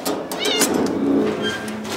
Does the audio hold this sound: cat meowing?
yes